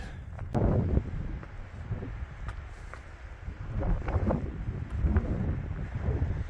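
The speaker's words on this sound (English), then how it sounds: "It's getting windy." Gusty wind on Mount Pierce buffets the microphone in low, roaring surges that swell and ease, with a few faint knocks and rustles, no voices.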